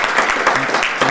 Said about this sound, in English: So I just wanted to give them a round of applause too.